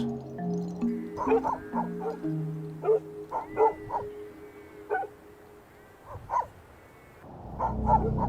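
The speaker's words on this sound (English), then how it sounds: "But they all continue to bark as if something is out there." Several herd dogs bark repeatedly at night from a distance, short irregular volleys echoing in an otherwise quiet outdoor setting.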